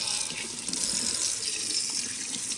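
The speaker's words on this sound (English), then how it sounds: "and then I rinse the rest of it out" Tap water runs steadily into a sink as an espresso portafilter from a De'Longhi Stilosa EC260BK is rinsed, a close, continuous splashing hiss with no pauses.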